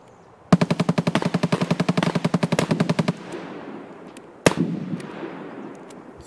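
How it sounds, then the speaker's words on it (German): Gunfire in the shooter game Escape From Tarkov: one sustained automatic burst of rapid, evenly spaced shots, then a single loud shot a little later, both close and sharp with a tail of echoing reverb. "Was schießt denn hier?"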